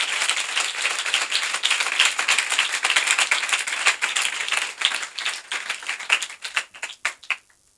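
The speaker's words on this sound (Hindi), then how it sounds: "चले जोरदार तालियां पाकरों के लिए बजाते हैं" A church congregation at a Sunday service claps for the pastors, a lively burst of applause with distinct individual claps that thins out into scattered last claps toward the end.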